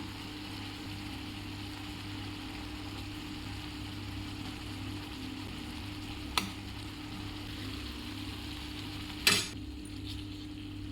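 Seer fish (ayila) simmering in a boiling masala gravy gives a steady, even bubbling sizzle. Two sharp clicks from the pan cut through it.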